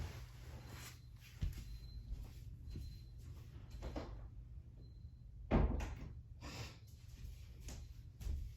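A door clunks open and bumps shut with a couple of soft knocks and one louder thud, over quiet room noise and no talking.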